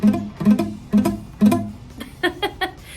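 An F bar chord on guitar is plucked repeatedly in short choppy strokes that sound muted and buzzy, the notes cut off rather than ringing clearly.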